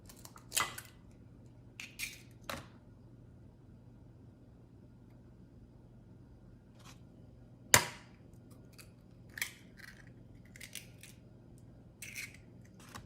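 Eggs are cracked one by one into a prep bowl, giving several sharp, brief taps and cracks spaced a few seconds apart, close and crisp against quiet background hum.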